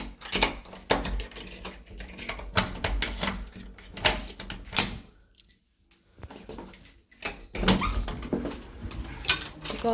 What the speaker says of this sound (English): So these were the keys that were given.